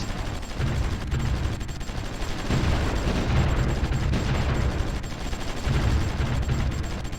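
Artillery rumbles through a battle in the war strategy game Supreme Ruler Ultimate: dense, continuous booming and gunfire that rolls on loudly for several seconds without a pause.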